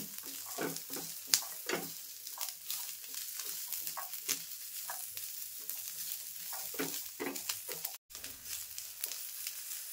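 Onion frying with ginger garlic paste in a pan gives a soft, even sizzle broken by repeated scraping stir strokes, close but fairly quiet, with no talk.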